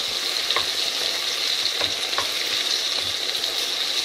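Capsicum cooking in a pan of blended tinned tomato sauce for chilli paneer, a steady close sizzle with a few soft scraping stirs of a spoon.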